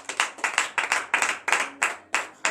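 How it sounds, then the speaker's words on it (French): Congregation at a Benin morning prayer service clapping in acclamation, a steady rhythmic beat of about five claps per second carried by many hands, close and lively. "Donnez l'acclamation à notre Seigneur Jésus."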